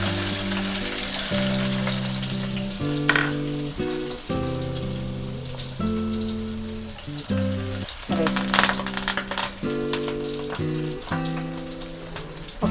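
Onions fry in tempering oil with a continuous crackling sizzle, and music plays over the cooking throughout.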